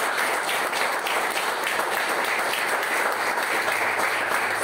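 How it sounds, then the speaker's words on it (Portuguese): A church congregation at a Saturday worship service claps together in a dense, sustained round of applause that fills the room evenly from start to finish. "Dê uma salva de palmas ao Senhor."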